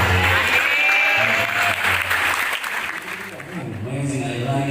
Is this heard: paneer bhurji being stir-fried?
no